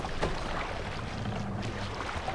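Viking ship sailing in Assassin's Creed Valhalla, a steady wash of water and wind rushing past the hull with faint creaks, continuous and fairly close, no voices.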